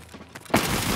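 Gunfire in the video game Escape from Tarkov: a sudden loud burst of shooting cuts in halfway through and continues as dense, harsh noise after a quieter opening.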